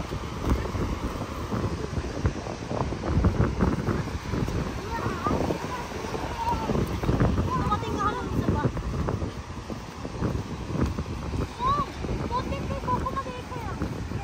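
Strong wind buffets the microphone at a beach in Tottori, Japan, with sea waves washing in beneath a constant rough roar, and voices chatter faintly throughout.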